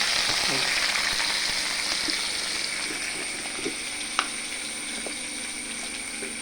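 Sliced onions sauté in a pan with a soft continuous sizzle, and a few light scrapes and taps from a stirring spoon come through faint and close.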